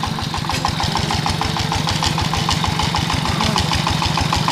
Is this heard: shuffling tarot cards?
no